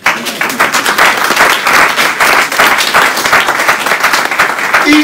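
A church congregation applauds together, dense sustained clapping from many hands that stays loud and steady for several seconds, close and filling the room with no talk over it.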